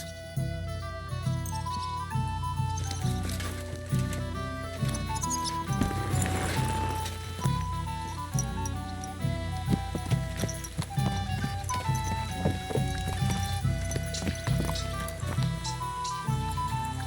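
Horse hooves clip-clop at a steady walking rhythm in the medieval game Kingdom Come: Deliverance II, sounding over a continuous musical and ambient game backdrop.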